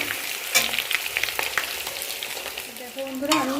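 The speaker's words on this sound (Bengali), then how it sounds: "আলুটা আমার লাল লাল করে এখানে ভাজা হয়ে গেছে।" Potatoes frying in a pan until browned and red, with a steady close sizzle and occasional scraping stir sounds throughout, no one talking.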